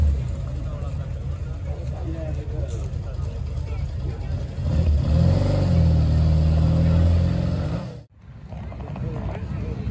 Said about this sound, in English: somebody's turned up in a press car